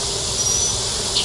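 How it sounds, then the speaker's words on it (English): Dense, steady buzzing of honey bees in a Flow Hive, like many bees humming close by, continuous and fairly loud with no talking. "Oh my goodness, there's a bunch of bees up in there."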